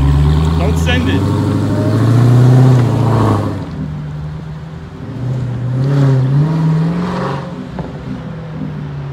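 A new Dodge Charger Hellcat revs loudly up close, its deep engine roar swelling and dropping in a couple of bursts, with people talking over it.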